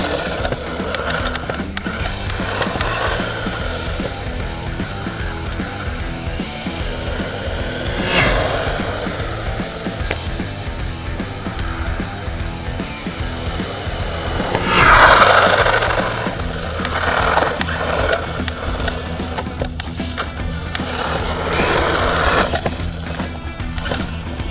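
A remote-control 4x4 off-road car drives across grass, its motor whirring steadily under a loud, continuous rolling rumble that swells briefly midway, with no talking.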